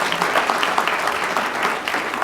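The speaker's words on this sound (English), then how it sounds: "let's give all of our students another round of applause." A room full of people applauds students at a school board meeting, steady dense clapping throughout with no pauses.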